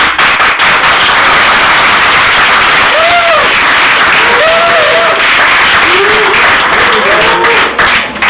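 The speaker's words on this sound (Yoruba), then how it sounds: "Ẹ bá mi pàtẹ́wọ́ fún ọkọ àti ìyàwó." Guests at a Yoruba wedding applaud the bride and groom with loud, sustained clapping and crowd noise, while voices rise and fall over the top.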